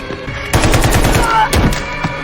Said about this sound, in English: Badia immediately grabbed the terrorist's gun and, without hesitation, shot him dead.